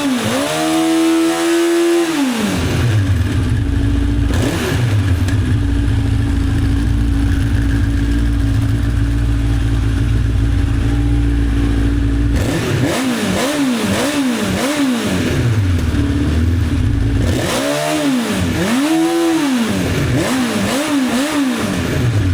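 1985 Honda CB1100F motorcycle, abandoned for twenty years, running just after its first start: a loud, close engine idling roughly, then blipped with repeated throttle revs rising and falling.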